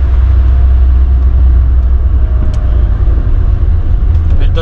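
A 1989 Peugeot 205 1.1 XL three-door accelerating hard in second gear, its small engine giving a loud, steady, close rumble from start to finish.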